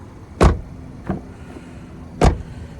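A 2017 Ford Focus SE's car door thumping three times in under three seconds: two firm, loud knocks with a lighter one between them, heard close against a quiet idling background.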